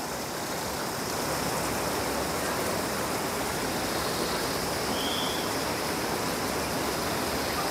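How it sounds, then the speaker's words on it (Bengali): Water pours and splashes steadily at the Sahastradhara springs near Dehradun, a dense, even rushing wash with no breaks, fairly close, with no voices. "টপ টপ করে সব জল পড়ছে দেখুন, এই জায়গাটা ভালো বয়ে যাচ্ছে।"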